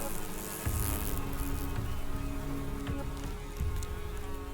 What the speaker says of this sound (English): Their menacing buzzing dominates the forest.